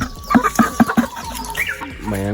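African chickens cluck during feeding in Kenya, with four evenly spaced clucks up close, followed by scattered calls and a drawn-out squawk at the end.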